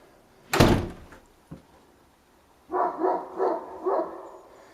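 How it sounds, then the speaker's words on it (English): A porch door swings shut with one sharp, close thud and a smaller knock after it, followed by a pause and then a dog barking several times nearby. "I'll even fake that I'm closing the door and going in."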